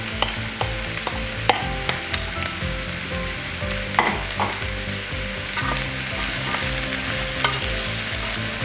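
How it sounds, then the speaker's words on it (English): Zucchini and other vegetables are stirred in a pot over high heat, with a steady sizzle broken by repeated sharp clicks and scrapes of the spoon against the pot. "Add the zucchini to the pot and continue stirring"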